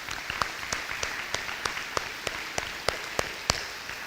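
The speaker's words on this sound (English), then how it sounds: "Please give them a round of applause." Thin applause from a small audience at an elementary school dedication and ribbon-cutting ceremony, a soft bed of scattered clapping punctuated by a series of sharp, evenly spaced louder claps near the microphone.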